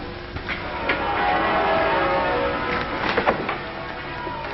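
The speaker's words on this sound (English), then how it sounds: "Listen to our wedding bells." Church wedding bells ring across England, a dense wash of overlapping peals carried from a distance, steady and full with no voices.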